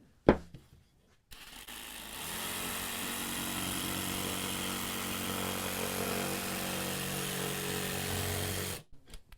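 A DeWalt power saw cuts through drywall with its blade set about half an inch deep. It spins up after a few knocks into a steady, buzzing whine that holds for roughly seven seconds before cutting off.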